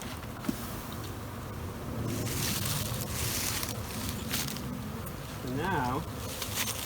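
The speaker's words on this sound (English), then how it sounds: "Just know it's going to be more like a cloud of bees." Honey bees from a swarm shaken into a beehive, a dense droning cloud of buzzing that swells and holds steady, with a brief voice speaking near the start.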